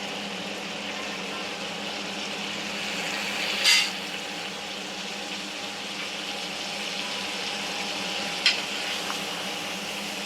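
About a kilo of mutton pieces frying on full gas in a pan, a constant close sizzle and bubbling with two sharp clatters of a utensil against the pan partway through, no speech.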